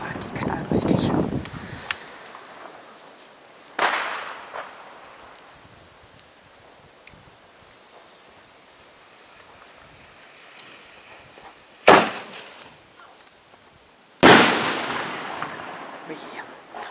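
Firecrackers on New Year's Eve: sharp bangs go off at irregular intervals, a few loud cracks separated by quieter stretches of background noise and faint crackling, including a misfire.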